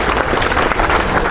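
Loud, dense applause from an audience at a speech event for LIC employees' federation, steady clapping filling the short moment without pause.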